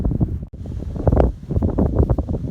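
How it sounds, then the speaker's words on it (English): Wind gusting across sand dunes in a provincial park on a hot day, a loud rushing buffeting against the microphone with brief lulls, close and continuous. "A nice wind to keep the heat from being really bad."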